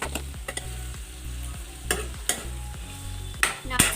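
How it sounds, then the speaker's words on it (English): Potatoes fry in a pan with a steady sizzle, while repeated scraping stirs sound up close at a fairly even rhythm, several sharper clacks falling near the end. "Now it's a little bit yellow. We have to let it fry for a bit."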